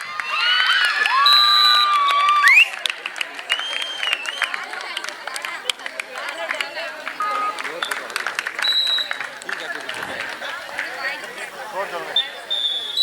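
Spectators cheer and shout at a village kabaddi match between Netaji Sports Club and Singampatti C, with a loud burst of crowd noise and whistles at first, then scattered clapping and voices under an announcer talking over a loudspeaker.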